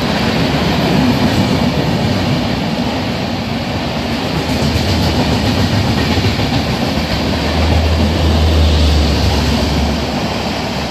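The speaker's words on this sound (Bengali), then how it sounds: "সকাল 8:20-তে পাঁশকুড়া স্টেশনে এসে পৌঁছায় দীঘা লোকাল" A Digha local train pulls into Panskura station with a loud, steady rumble of wheels and carriages over rails. The sound is close and continuous, and a low horn-like drone rises near the end.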